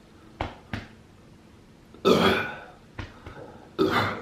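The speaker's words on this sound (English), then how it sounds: "I'm probably gonna get a big burp here in a second." A man belts out big burps after a drink during a taco meal: two faint clicks, then a loud, drawn-out belch, a short sound, and a second hefty burp, close to the mic.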